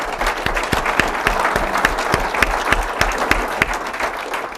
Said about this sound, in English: let's give them a round of applause for all the hard work